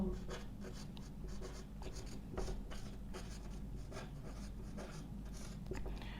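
Pen writing notes on paper during a physics lecture, steady scratchy strokes with soft taps, close and low in level.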